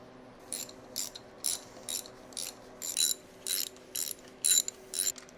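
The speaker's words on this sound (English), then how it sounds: "I'm just reinstalling the old bolts temporarily" A ratchet wrench tightening the oil pump bolts on a BMW N55 engine during a rebuild, heard as about ten short bursts of crisp, rapid clicking, close and clear with no talk.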